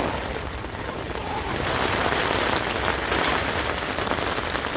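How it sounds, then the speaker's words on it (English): Rain patters steadily on a tiny tent at a gold mining campsite in Alberta, a dense close drumming of drops on fabric that grows slightly heavier partway through and continues without break. "Hunkered down in a tiny tent in the rain."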